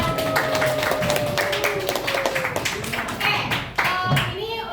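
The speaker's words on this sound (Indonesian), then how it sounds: "Kita beri tepuk tangan untuk Yaser." A classroom of students claps during a biology lesson on the digestive system, a brief burst of hand claps mixed with voices talking.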